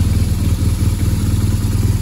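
A BMW R 1200 GS Adventure motorcycle idles steadily while warming up after a wash, its low engine thrum close and continuous with a light mechanical clatter and no talk.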